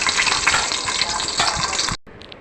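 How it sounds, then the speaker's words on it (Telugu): Mustard seeds, cumin and fenugreek crackling in hot oil for a Nellore fish curry, a loud close sizzle with small pops that cuts off abruptly after two seconds, leaving a faint quiet tail. "ఆవాలు జీలకర్ర కొన్ని మెంతులు మెంతులు కూడా వేసేసి ఫ్రై చేసుకోవాలి"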